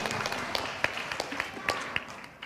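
Scattered applause from an audience at a church quiz competition, a dense patter of claps with a few sharper hits, fairly faint and steady for a couple of seconds with some indistinct background noise.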